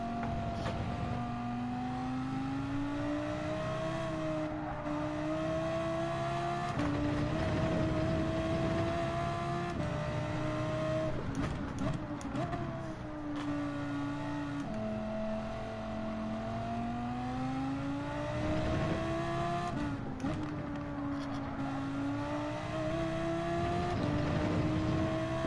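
Race car engine in Gran Turismo 7, loud and continuous, revving up and dropping repeatedly as the driver brakes late into corners and accelerates out again, with no talking.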